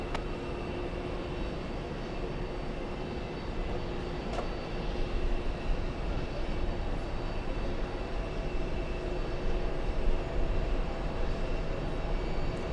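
Heavy airliner, Shamrock 104, departing: a broad, steady jet roar that swells slightly toward the end, with a faint whine riding on top and no talking.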